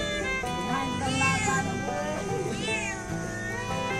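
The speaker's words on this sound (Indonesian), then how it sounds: "Kenapa ini kucing? Dari mana ini?" A cat meows repeatedly at close range with drawn-out, wavering cries, heard on a fishing trip for rabbitfish by the sea, with people talking faintly in the background.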